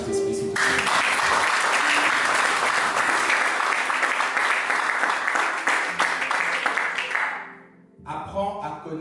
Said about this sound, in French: Acclame encore le Saint-Esprit, s'il te plaît